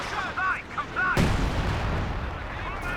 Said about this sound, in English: 2 kills from the Howie with his first barrage.